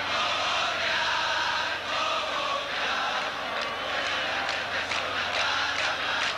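A large football crowd at a 1991 Copa América match between Paraguay and Venezuela fills the stadium with a steady, dense roar of cheering and shouting, loud and continuous throughout with no clear voices picked out.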